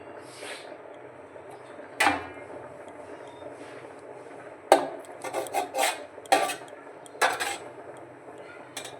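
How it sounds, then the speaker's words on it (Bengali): Someone slices a steamed egg mixture into small fish-shaped pieces, making a handful of sharp knife clicks and taps against a hard surface, spaced irregularly over a quiet kitchen background. "এগুলো এখন পিস পিস করে কেটে নেব মাছের আকারে।"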